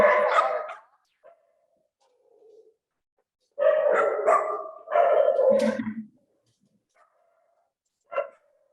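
Dogs bark in short bursts with quiet gaps between, a few loud close barks then a single sharper yip near the end.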